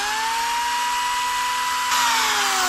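A power drill runs from a waterproof portable power station, a continuous high motor whine with a steady pitch that shifts slightly and grows a bit louder partway through, no voices.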